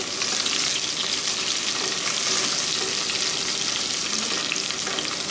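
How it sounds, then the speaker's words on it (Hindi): Tomato chutney fries with a steady, loud sizzle as green onions are stirred through it in the pan, a continuous crackling hiss with no voices over it. "ये हरी प्याज अब डालेंगे, इसको मिक्स करेंगे।"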